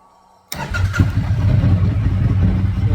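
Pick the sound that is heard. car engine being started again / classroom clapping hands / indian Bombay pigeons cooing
car engine being started again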